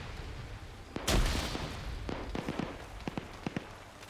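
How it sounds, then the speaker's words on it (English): A grenade tossed into a bunker in a multiplayer shooter game bursts with a sharp, loud blast, followed by a scatter of quick gunshot-like pops and cracks continuing to the end. "Arcor tosses another nade into the bunker"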